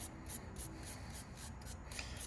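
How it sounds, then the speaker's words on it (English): A wire brush scrubs the outside of a small engine carburetor in quick repeated back-and-forth strokes, a close, steady bristly rasp with no talk. "So I got my wire brush, and we'll just clean the outside of this carburetor"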